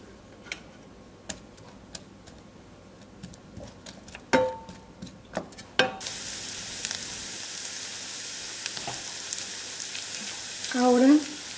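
Onion frying in a pan for a ground beef and mushroom dish, a soft steady sizzle broken by scattered clicks and taps of a utensil, with a brighter, louder hiss in the second half.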